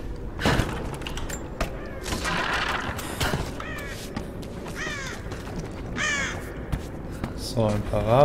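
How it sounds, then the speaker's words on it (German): Ravens caw in Rise of the Tomb Raider, several harsh calls spread across the scene at moderate distance over a steady game ambience with occasional thuds. "So, ein paar Raben."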